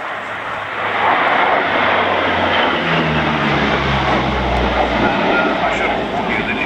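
Steady, loud drone of the four-engine Swedish Air Force Lockheed C-130H Hercules turboprops in flight, heard from inside with a broad roar and low propeller hum. Engine pitch slowly shifts throughout, with no breaks.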